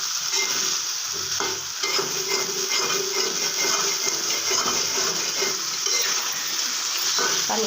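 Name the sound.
stirring and frying potatoes and spices in a pan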